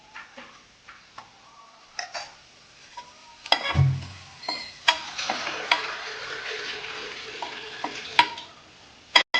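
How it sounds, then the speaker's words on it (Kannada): Chilli powder frying in a pan for mango gojju, with scattered sharp ticks and spoon scrapes of stirring over a soft sizzle, a louder knock near the middle. "ಸ್ವಲ್ಪ ಗೋಲ್ಡನ್ ಬ್ರೌನ್ ಬರೋ ತನಕ ಹುರ್ಕೊಳ್ಳಿ ಚೆನ್ನಾಗಿ."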